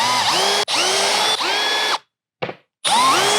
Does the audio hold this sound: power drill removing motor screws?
yes